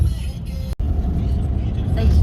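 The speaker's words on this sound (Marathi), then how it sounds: "गाडी आलेली आहे" A car pulls up with a steady, fairly loud engine rumble and road noise that holds throughout, broken by one sharp dropout partway in.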